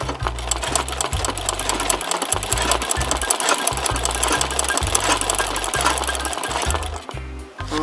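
A sewing machine embroiders a chili design onto a dress shirt, its needle hammering in a fast, loud, steady rhythm with brief pauses between bursts of stitching, and no talking.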